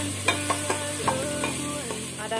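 Bottle gourd and chana dal frying and being stirred in a pan, a close, continuous sizzle broken by several scraping, clinking strokes of the spoon.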